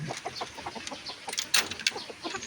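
A hen clucks in a farmyard, giving a quick run of short, close clucks with brief chirpy notes and a sudden rustle partway through, fairly loud and alone without talk.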